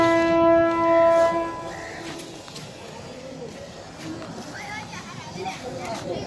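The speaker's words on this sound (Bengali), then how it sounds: "এই যে লোকোমোটিভ সামনে আসতেছে, এখন লোকো কাপলিং করে আবার ঢাকার উদ্দেশ্যে ছেড়ে যাবে।" A Narayanganj commuter train from Kamalapur stands with its locomotive coming up to couple, a long horn tone sounding at the start before fading into a low rail rumble, with a person talking over it.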